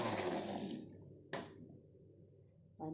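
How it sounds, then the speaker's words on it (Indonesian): A kitchen blender whirs loudly as it purees sauce ingredients for Indonesian ayam semur, then cuts off abruptly, followed by a short burst and a faint restart near the end; no talk is heard. "Ini kita blender lagi ulang karena kurang hancur."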